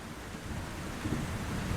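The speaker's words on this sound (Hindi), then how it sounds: "रात भर तेज बारिश चलती रही।" Heavy rain pours steadily through the night, a dense continuous hiss with a low rumble beneath, even and unbroken throughout.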